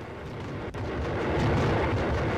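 A Molotov cocktail bursting into flames in the Max Payne shooter game, a sudden low whoomp followed by a sustained rumbling roar of fire with a sharp click near the start.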